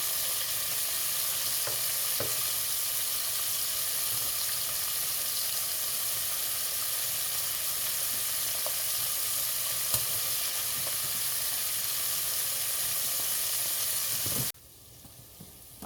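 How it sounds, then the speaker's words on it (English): Oil sizzles and crackles steadily around frying okra, a constant dense hiss that stops abruptly near the end. "Okay, my okra is still frying"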